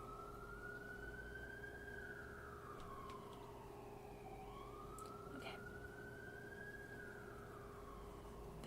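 A distant emergency siren wails in long rising and falling sweeps over a steady low hum, continuing throughout at moderate volume.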